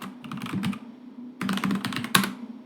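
Keys clatter on a computer keyboard as a password is typed in two short bursts separated by a pause, close and fairly loud, ending with a sharper key press.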